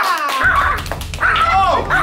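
A dog in a kindergarten classroom gives a few short, close barks and yips, with brief high-pitched cries between them.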